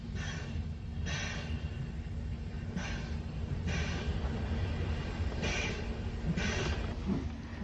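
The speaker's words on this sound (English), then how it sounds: "18 Ningwood makes a spirited departure from St John's Road" Steam locomotive No. 18 Ningwood pulls out of Ryde St John's Road station on the Isle of Wight, giving strong rhythmic exhaust chuffs about once a second over a steady rumbling background, with no voices.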